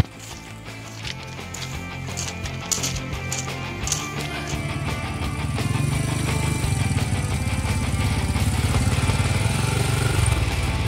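A motorcycle engine runs steadily on a slippery hillside at about 3 a.m. in near-freezing cold, its rough, continuous drone swelling louder and fuller partway through, with some clatter early on and no talking.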